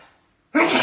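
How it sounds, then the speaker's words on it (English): A single sharp human sneeze bursts out loud and close after a brief moment of near silence, in a home woodworking shop. "Sneeze."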